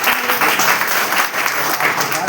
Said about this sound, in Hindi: एक बार जरा जोरदार ताली बजाते